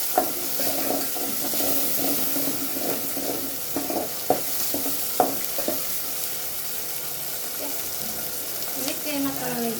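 Green chillies frying in a pan for soupy noodles, with a steady sizzle and repeated stirring scrapes and clacks throughout, close and fairly loud.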